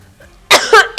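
A woman gives a short, sharp double cough, two close bursts after a brief quiet lead-in, near and fairly loud.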